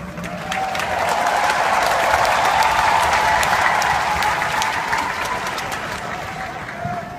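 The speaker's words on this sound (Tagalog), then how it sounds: "Maraming salamat sa inyong palakpak." A large audience applauds steadily at a company's ninth-anniversary event, a dense, sustained wash of clapping that swells early, holds, and tapers slightly toward the end.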